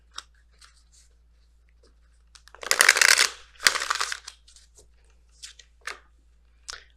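A deck of Messenger Oracle cards is shuffled in two brisk riffling bursts, with scattered soft taps and card flicks before and after in an otherwise quiet room.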